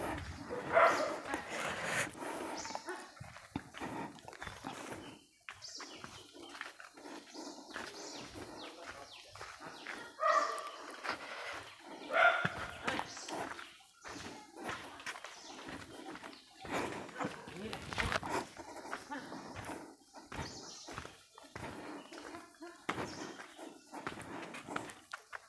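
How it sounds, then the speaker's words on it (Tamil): Dogs bark in a tiny forest hill hamlet of two houses, with scattered barks and yips near and far amid birdsong, while people talk throughout. "நாயெல்லாம் நிறையா இருக்கும் போல இருக்கேன்."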